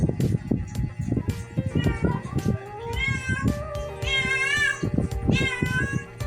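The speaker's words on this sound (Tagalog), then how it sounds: "ingay ng pusa" A cat meows repeatedly, with several drawn-out, rising cries close by, while faint low thumps and rustling sound underneath.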